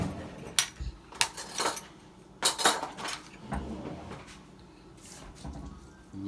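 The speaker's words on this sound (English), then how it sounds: "I'm going to just put a little the cinnamon in it. And I'm going to take it and mix it up." A sweet potato pastry filling with cinnamon is mixed in a bowl, heard as several sharp, irregular clinks and scrapes of a utensil against the dish between quieter stretches, with no talking.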